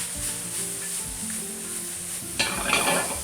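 Sliced mushrooms sizzle steadily in a stainless steel pan with a soft stirring texture, then a brighter, louder burst of frying as they are tossed near the end.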